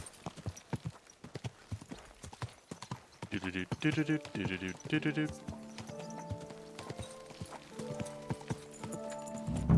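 Horse hooves clip-clop at a steady walking rhythm in the video game Kingdom Come Deliverance 2, close by and fairly loud, with someone talking and humming over them and a brief whinny partway through.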